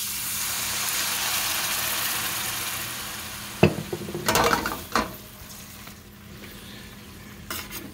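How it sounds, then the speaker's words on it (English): A hot pan is deglazed with white wine: a loud, steady hiss of sizzling liquid, then a utensil scrapes and clacks against the pan in several sharp, close strokes as the mixture is stirred. "I'm gonna deglaze with about 1/2 cup of white wine"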